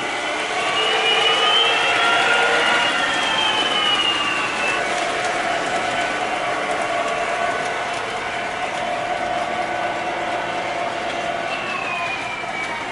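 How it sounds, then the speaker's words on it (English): Model trains of several scales run past in a display of trains, pirate ships and planes in Albemarle, North Carolina, with a loud, continuous rumbling engine sound effect and sweeping tonal whistles that rise and fall. "you get the different scales of the trains going by with the sound effects"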